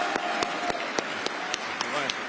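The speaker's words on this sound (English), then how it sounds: "please give a warm round of applause for Mayor Bill de Blasio" At a Veterans Day breakfast reception, crisp, evenly spaced claps ring out in a steady rhythm for Mayor Bill de Blasio, with voices murmuring beneath them.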